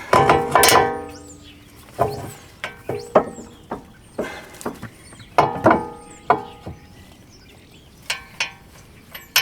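A ratchet clicks in short irregular bursts while brake caliper bolts on a Land Rover Discovery 3's front brakes are tightened by hand, sharp close metallic ticks with brief pauses between strokes.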